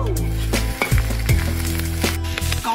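Strips of blanched pig skin frying in a pan, a loud close sizzle with bursts of crackling and a few metallic spatula knocks, accompanied by a steady low hum.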